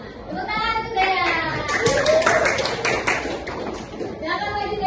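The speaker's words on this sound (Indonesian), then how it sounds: "tepuk tangan untuk Dea." Students in a high school classroom clap for a classmate, a brisk patter of hands mixed with children's chatter and lively room noise.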